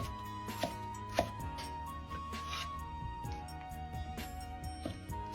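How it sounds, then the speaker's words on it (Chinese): A knife chops smashed garlic on a board in a few sparse, distinct knocks, heard under steady background music. "大蒜稍微要多一点，先拍破，剁碎就可以，不用剁得太细。"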